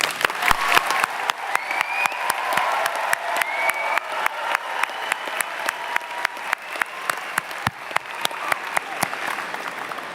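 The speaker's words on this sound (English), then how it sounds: "let's take a moment to acknowledge our grads with a round of applause." Audience at a college convocation applauding graduates, sustained clapping from a large crowd with sharp individual claps close to the microphone, steady for ten seconds.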